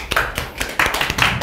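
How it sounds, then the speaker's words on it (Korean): Classroom students at an English academy clapping hands close by, a brief burst of sharp, uneven claps lasting barely over a second. "박수 한번 주세요"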